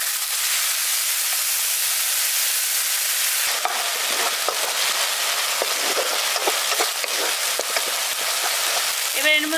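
Ginger-garlic paste frying in a pan for a village-style carp curry hisses steadily, then erupts into louder crackling and popping sizzle as a little water is poured in, continuing close and busy to the end.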